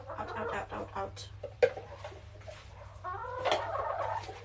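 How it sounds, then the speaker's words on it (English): Free-range chickens clucking and murmuring close by in a backyard, several birds calling in soft irregular bursts over a low steady hum, with a sharp knock partway through. "I have free-range chickens, so they love company"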